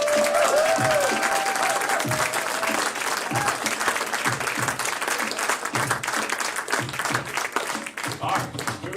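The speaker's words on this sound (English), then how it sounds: "Let's give him a rousing round of applause." A theatre audience breaks into sustained, loud applause as a performer named Matt Moberg takes the stage, dense clapping filling the room throughout.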